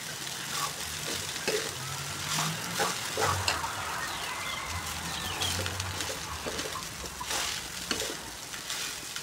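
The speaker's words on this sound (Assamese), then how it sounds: "ভাতটো অলপ মিক্স কৰিব লাগিব। ঘনে ঘনে হিলাই থাকিব লাগিব যাতে ভাতটো তলৰ ফালৰ পৰা দেই নাথাকে।" Cooked rice crackles in a small wok for Schezwan fried rice over a medium flame, a soft continuous sizzle broken by irregular scrapes and clinks as it is tossed and stirred, with no voices.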